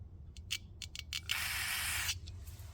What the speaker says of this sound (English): spray off our air screw